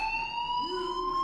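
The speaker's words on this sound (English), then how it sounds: "do you hear that fire alarm?" A steady electronic fire alarm siren in the video game Life is Strange sounds continuously and loudly for the whole stretch, a high piercing multi-tone wail with a lower tone joining partway through.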